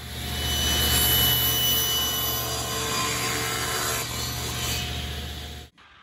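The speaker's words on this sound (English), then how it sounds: "I cut 3 sides, then put blue tape on to hold the lid in place while I cut the 4th side" A saw with a thin-kerf blade cuts the lid free from a wooden donation box, a loud, steady, whining drone that runs for several seconds before stopping abruptly.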